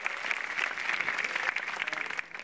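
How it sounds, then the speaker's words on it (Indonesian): Steady applause fills a stand-up comedy open mic stage as a comedian is welcomed, a dense unbroken patter of many hands clapping at moderate level with no speech over it. "Kita beri tepuk tangan yang meriah untuk Warsito Sanyoto."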